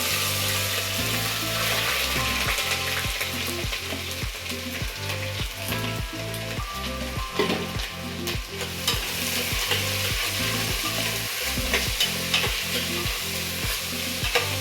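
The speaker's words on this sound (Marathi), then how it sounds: "तो लाल झाला आहे तर आपण आता बारीक केलेला कांदा घालूया" Finely chopped onion sizzles in hot oil with garlic for chicken biryani, a dense, continuous frying hiss broken by regular stirring scrapes of a spoon against the pan.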